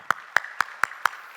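Five sharp, evenly spaced claps ring out in a steady beat from a congregation at a Korean church Sunday service. They sound close and clear, with no voices over them.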